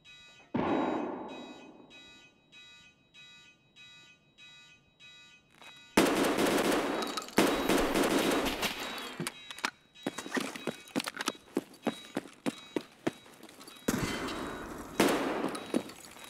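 Magnum Saiga shotgun gunfire in Escape From Tarkov, a burst of loud, sharp blasts in fast succession with ringing tails. It comes after a stretch of quieter game noise, and a few later shots are spaced apart.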